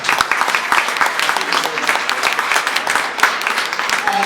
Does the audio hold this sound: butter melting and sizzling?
no